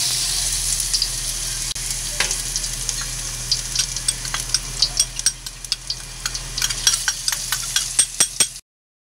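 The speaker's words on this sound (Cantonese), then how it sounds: "爆香啲蒜蓉豆豉" Minced garlic and fermented black beans sizzle in a hot wok, a continuous close frying hiss with rapid clinks and scrapes of the spatula growing busier toward the end, then cutting off abruptly.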